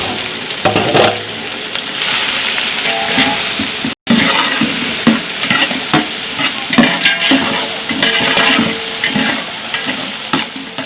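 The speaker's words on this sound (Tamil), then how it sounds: "சோம்பு பொரிஞ்சோடனே அரைஞ்சி வச்சிருக்கிற வெங்காயத்தை போட்டுக்கலாம்" Ground onion paste going into hot oil with fennel seeds, a loud, close sizzle and crackle with frequent stirring scrapes and clatter continuing throughout, with a momentary break early on.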